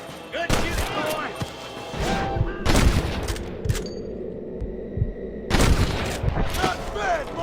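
Gunfire rings out in a Wild West shootout with cattle rustlers in Red Dead Redemption, loud repeated shots and bursts scattered through a busy mix of rumbling background and shouting voices.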